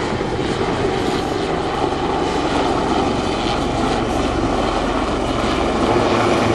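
A maritime variant Westland Lynx helicopter at a seaside air show produces a continuous loud engine and rotor roar, steady and broadband throughout with no pauses.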